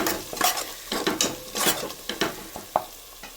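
Ginger and turmeric being stirred and fried in a pan for Telangana-style mutton curry, with irregular scraping strokes of a spoon over a soft, steady sizzle, close and fairly quiet.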